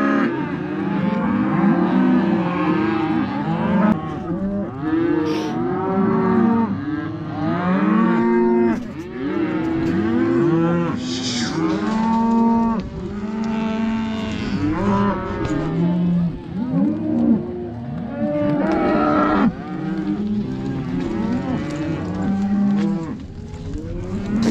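Cows and calves being sorted in pens moo almost nonstop, many overlapping bellows near and far, loud and insistent across the whole stretch with no talk.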